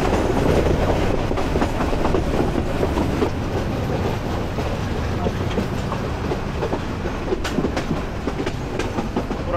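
A train rolling into Kumira railway station in a hilly area, a loud continuous rumble with rhythmic clickety-clack of wheels over rail joints, heard from close by and alone.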